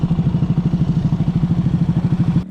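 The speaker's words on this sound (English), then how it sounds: "Your exhaust sounds awesome." Honda Grom motorcycle exhaust while riding, a steady, loud, low pulsing drone with rapid even firing beats, close by and continuous, cutting off abruptly at the end.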